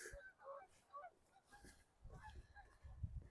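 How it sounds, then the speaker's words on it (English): Several faint goose honks call out at a distance from geese flying overhead, heard from a city street in Regina in November, over quiet background noise, a few scattered cries rising and falling. "Geese overhead."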